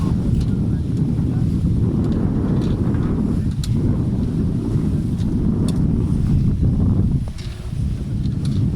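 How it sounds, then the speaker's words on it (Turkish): Strong wind buffets the microphone with heavy low rumbling gusts on a sailboat, sea and boat noise underneath, briefly easing near the end. "Rüzgar çok fazla."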